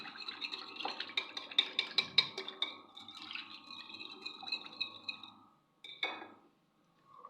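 Batter for homemade doughnuts being beaten in a bowl: close, rapid scraping and clinking strokes in an uneven rhythm, then a pause and a few final taps, with no talking.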